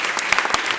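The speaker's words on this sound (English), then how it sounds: "so give them a round of applause." Short burst of audience applause after a speaker at a Philadelphia small business announcement, a brief patter of clapping at moderate distance with no speech over it.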